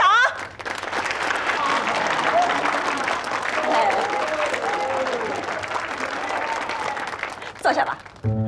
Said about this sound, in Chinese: 来鼓掌。